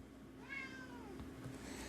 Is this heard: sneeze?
no